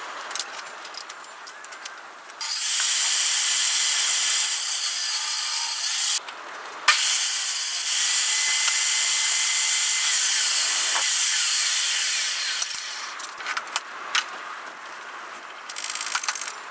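A power saw ripping wooden boards lengthwise to narrow them from 3 to 2.5 inches, two long loud hissing cuts separated by a short pause, quieter handling sounds before and after.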